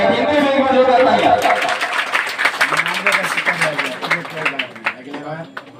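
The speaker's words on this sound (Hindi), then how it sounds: "इनके भी एक बार जोरदार तालियां" An audience claps at an honour ceremony held by a coaching centre for Bihar Board class 10 and 12 results. The loud, dense applause builds after an opening voice and keeps going steadily under a talking announcer.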